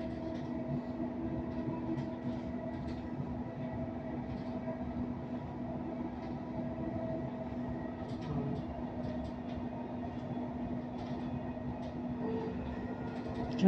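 Train travelling along a railway in Dubai, heard from inside as a steady rumbling drone with a low hum and light rattles, continuous and even, with no talk.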